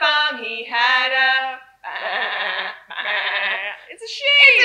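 Loud, drawn-out sheep bleats repeat close up during a children's farm-song session, probably voiced by a person imitating the animal rather than a real sheep.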